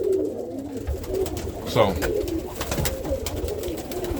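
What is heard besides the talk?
roller pigeons cooing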